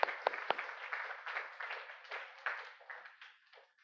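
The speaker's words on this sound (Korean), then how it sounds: "우리 수고하셨다는 의미로 박수로 한번 네." Church congregation applauding, a few sharp close claps opening into a moderate spread of clapping that gradually thins and fades over a few seconds, fairly soft overall.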